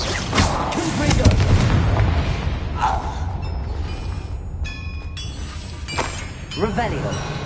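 A Confringo blasting curse goes off in a Harry Potter-style video game, a booming, crackling explosion with debris-like shattering and creaks, followed by ringing magical chimes while a voice speaks over the game sounds.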